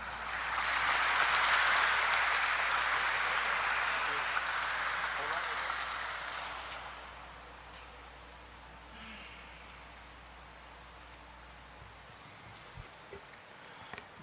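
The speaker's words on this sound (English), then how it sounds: "A nice big round of applause." An audience at a company stock listing ceremony claps warmly for several seconds, the applause then dying away into quiet room tone with faint movement.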